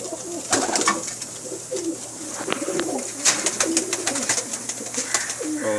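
Pakistani Banka and Teddy pigeons, a breeding pair, coo repeatedly in soft rhythmic bursts close by, mixed with light wing flutters and scattered chirps.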